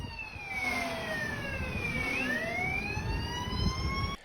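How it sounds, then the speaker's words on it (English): A police drone's wailing siren sweeps up and down in pitch over steady background noise, loud and continuous throughout. "Now you hear that siren, that's not one of the police cars"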